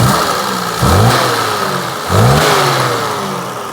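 A Leyland Princess limousine from the Woodall Nicholson conversion, with an E-series engine, idles steadily and is revved sharply twice, each blip rising and falling back to a smooth, close, loud idle with no talk.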